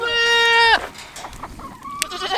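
Pygmy goat on a farm lets out one loud, close, sustained bleat that drops off sharply, followed by quieter scattered animal and yard sounds.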